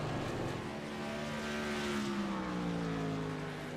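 A NASCAR truck engine drones through a lap of the Long Beach street circuit in iRacing, a steady, sustained engine tone gradually shifting in pitch as it accelerates, with no talking over it.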